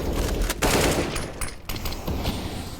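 Rapid gunfire from a Counter-Strike match on the Nuke map, dense bursts of automatic shots crackling loud and close for the whole stretch with brief pauses between volleys.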